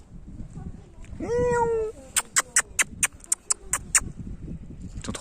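Several cats gathered behind a car give a drawn-out meow, followed by a quick series of sharp clicks or taps, with people talking quietly in French.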